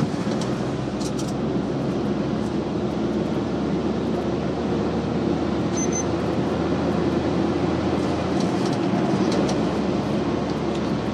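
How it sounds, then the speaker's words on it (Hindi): Cabin drone of a Maruti Suzuki Alto VXI Plus being driven hard in heavy traffic, a steady low engine and road rumble with faint rattles and brief high ticks, continuous and fairly loud with no speech. "आपको केबिन में अगर आपको केबिन में इंजन का नॉइज आ रहा हो तो प्लीज़ कमेंट करना"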